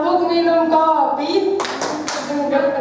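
A children's rhythmic clapping game, "tepuk minum kopi," at an Islamic Qur'an-memorization school, with a chanted sing-song voice first, then a few sharp group claps in quick succession mid-clip as the chant continues.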